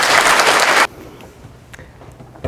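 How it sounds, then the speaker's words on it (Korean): Brief burst of audience applause at a KAIST lecture for high school students, loud clapping that cuts off abruptly after under a second, leaving a quiet room. "오혜연 교수님 박수로 맞이해 주시기 바랍니다."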